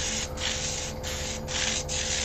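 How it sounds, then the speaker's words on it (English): An airbrush being cleaned, its nozzle blocked by a finger, forces air back up through the paint well in a loud continuous hissing rush, broken by several short regular gaps from pulses of the trigger, with no talking. "Finger over the end, activate it, and that'll blow air back through and up through the ink well"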